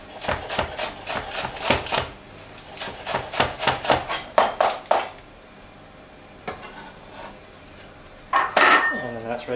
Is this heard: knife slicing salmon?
yes